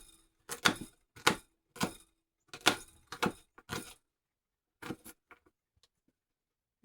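Knife slicing garden tomatoes that were touched by frost, a series of short crisp cuts landing on a board in a loose rhythm, close but fairly soft, with quiet pauses between them.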